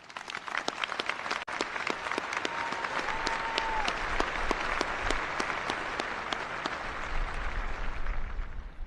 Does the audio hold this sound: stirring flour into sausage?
no